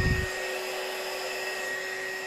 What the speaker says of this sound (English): And then we're going to take our heat gun.